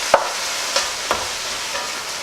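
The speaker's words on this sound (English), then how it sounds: "I just want to keep breaking the mince up so it's in nice small pieces." Minced meat browning in a pan while being broken up into small pieces, a soft continuous sizzle with a few sharp scraping taps of a utensil against the pan, no talking.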